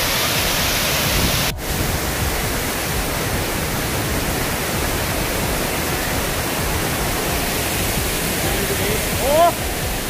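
Waterfall at Tad Ku on the Bolaven Plateau, Laos: a loud, unbroken roar of rushing water fills the whole span, with a brief dropout near the start and a short faint tonal chirp near the end.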